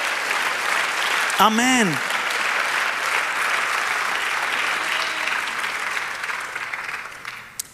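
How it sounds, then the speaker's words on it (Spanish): A church congregation applauds together in a steady, sustained wash of clapping that fills the space, while a voice calls out briefly over it and the applause slowly thins toward the end. "Dale un aplauso al Señor"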